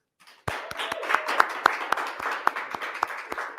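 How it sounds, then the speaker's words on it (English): Applause at an alumni awards ceremony, starting abruptly and continuing as a modest round of clapping with distinct individual claps standing out close by, fairly thin rather than a dense crowd roar. "Let's give them a round of applause,"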